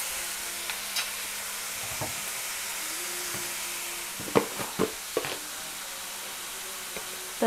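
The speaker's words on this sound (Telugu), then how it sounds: "దీన్ని మనం కొంచెం సేపు వేగనిద్దాం." Egg mixture frying in a pan, a steady soft sizzle broken by a few scraping stirs in the middle and near the end.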